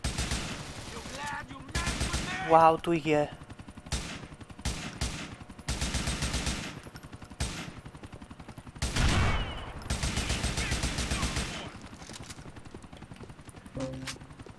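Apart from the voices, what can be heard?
gunfire in GTA IV video game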